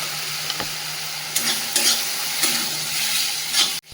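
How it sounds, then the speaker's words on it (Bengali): Spice paste with cumin powder fries and is stirred in a pan for a Bengali fish curry, a steady close sizzle broken by several sharp scraping strokes of the spoon against the pan. "মশলাটা সুন্দর করে ভেজে নিয়েছি, আর মশলা থেকে তেলটাও ছেড়ে দিয়েছি"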